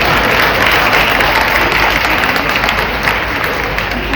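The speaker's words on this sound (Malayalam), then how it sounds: "അത് ഞാൻ കൈയടി ചോദിച്ചു വാങ്ങിക്കണം." Audience clapping at a political speech in Kerala, a dense, steady burst of applause from a large crowd that stays loud for the full four seconds with no speech on top.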